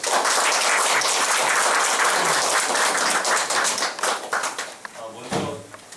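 An audience applauds to welcome a guest at an indoor talk, a loud, dense burst of clapping that holds steady and then gradually thins out toward the end, with a voice briefly heard over it.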